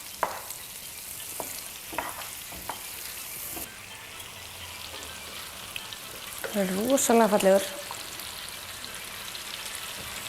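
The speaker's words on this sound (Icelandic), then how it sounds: "Sýnist þessi komið tími á það að snúa fisknum við." Fish sizzling and spitting in a frying pan as it is turned over, a steady frying hiss with a brief louder burst near the end, while a person talks over it in Icelandic.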